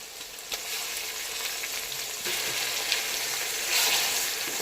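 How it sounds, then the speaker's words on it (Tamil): Tomatoes and plenty of garlic fry in a pan for a Chettinad sankara fish curry. A soft, even hiss of sautéing continues throughout with an occasional faint stir, and no one speaks. "தக்காளி நல்லா வதங்கி வரட்டும், வதக்கி விட்டுக்கலாம்."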